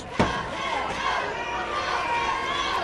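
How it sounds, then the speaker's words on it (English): A wrestling arena crowd at an NWA TNA match cheers and roars in a steady, dense wash of voices, with a sharp slam-like thud near the start. "Crowd cheering for Saturn."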